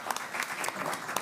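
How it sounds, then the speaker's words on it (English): Brief scattered clapping from an audience at a county board of commissioners meeting, a short burst of hand claps with some overlapping voices. "everybody clap"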